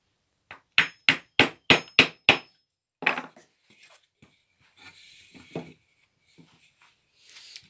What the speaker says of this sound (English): and then I'll hammer it in.